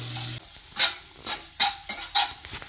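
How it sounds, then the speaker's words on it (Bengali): Spice paste with chopped tomato sizzles in a pan for a Bengali fish curry, stirred in several close scraping strokes over a steady low frying hiss. "মশলাটা খুব ভালোভাবে কষানো হয়ে গেছে এবার একটু টমেটো কুচি দিয়ে দিলাম"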